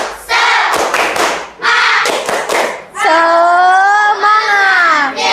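A school class does the tepuk semangat spirit clap, rhythmic bursts of group clapping followed by children loudly chanting together.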